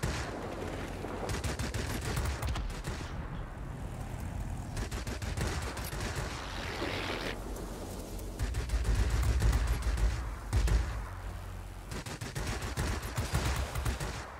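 A Yak-3 fighter in the video game World of Warplanes fires its machine guns in repeated short bursts, rapid rattling volleys separated by brief pauses, loud and close over a steady engine drone.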